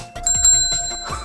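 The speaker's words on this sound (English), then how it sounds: "A bell! Listen!" A bell rings brightly in a quick series of close, sharp metallic dings with a sustained ringing tone, loud and without any talking.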